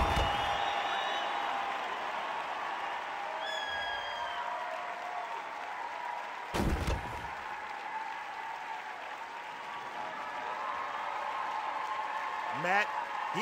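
A crowd applauds and cheers in a steady, dense wash of clapping and voices that runs the whole length, with a brief louder burst partway through.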